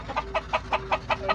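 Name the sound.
chickens clucking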